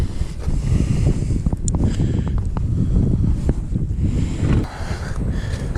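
Strong wind buffets the microphone out on open water in near-freezing 30 to 32 degree air during a kayak outing, a steady low roar with gusty rumble throughout and a brief dip near the end.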